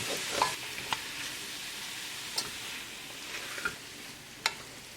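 Chicken thighs and vegetables sizzle steadily in a kadai over medium heat, with a spatula scraping and knocking against the metal in a few sharp, scattered strokes; no voices.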